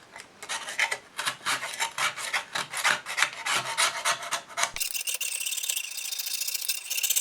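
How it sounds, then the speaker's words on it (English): A razor blade scraper drags across a rusty backsaw blade in rapid, rhythmic rasping strokes, close and loud, before the scraping gives way to a steadier, hissing rub. "I'm just going to use a regular old razor blade scraper"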